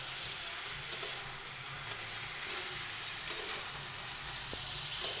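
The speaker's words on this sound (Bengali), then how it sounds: "মাঝে মধ্যে এভাবে ঢাকনা তুলে নেড়ে চেড়ে দেখতে হবে যে কতটুকু হলো" Chicken and potato curry with green chilies cooking in a covered pot, giving a steady soft sizzle with faint stirring scrapes and a couple of small clinks as the lid is lifted.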